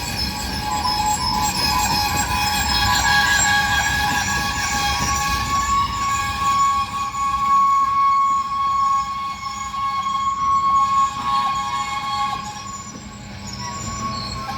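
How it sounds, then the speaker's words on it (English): A CSX freight train goes into emergency braking in Connersville, grinding along with loud, sustained metallic squealing from its wheels and brakes, the rumble continuing steadily before easing slightly near the end. "the train just went into emergency and stopped"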